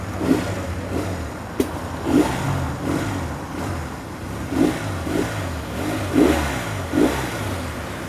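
A motorcycle engine on a Japanese bike revs in repeated, rising surges about once a second over a steady running drone, close and fairly loud, with no voices.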